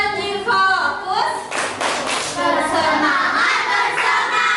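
An Indonesian elementary school class performs the "tepuk janji fokus" clapping routine, children clapping together in a patterned rhythm for several seconds while young voices chant along and call out.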